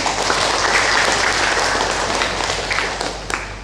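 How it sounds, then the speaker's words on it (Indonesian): A crowd applauds at a teachers' association inauguration ceremony, with dense, steady clapping that fades slightly toward the end, a few sharper claps standing out near the close. "jadi tepuk tangan untuk kakak Gipai."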